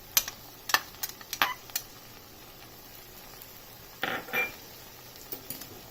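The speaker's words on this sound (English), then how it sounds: "Stir it in completely. Mix the red chili powder to all the vegetables." Spoon scraping and clinking against a pan while red chili powder is stirred into mixed vegetables for a dry dish, a quick cluster of metallic taps early, a softer scrape later, with quiet pauses between.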